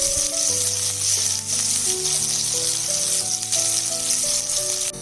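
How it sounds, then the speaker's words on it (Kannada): Finely chopped onion sizzles steadily in hot oil in a pan, a close, continuous frying crackle with no voices over it. "ಈರುಳ್ಳಿ ಕೆಂಪಗಾಗೋವರೆಗೂ ಹುರ್ಕೋಬೇಕು."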